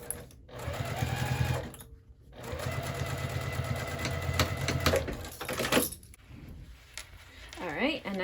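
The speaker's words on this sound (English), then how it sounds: "Stitching over the thicker spots there." A sewing machine stitches through a handbag at its thicker spots, running in steady bursts with short pauses between them, close and fairly quiet.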